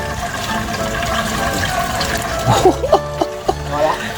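Freshly picked salad greens washed in a tub of water, steady running and splashing water with a few sharper sloshes near the end.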